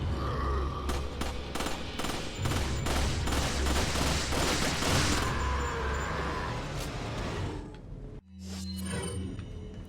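Bursts of Matilda machine-pistol fire in the video game Resident Evil 4 crackle in quick repeated volleys amid chaotic combat noise, fading toward the end and giving way to a low grunt-like sound.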